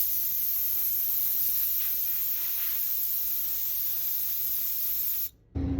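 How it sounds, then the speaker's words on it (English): Nitrogen gas sprays from a tank nozzle to dry a PFAS MIP sensor electrode in a lab, a steady close hiss that runs unbroken for about five seconds and then cuts off abruptly. "we're going to spray with nitrogen gas until it's dry"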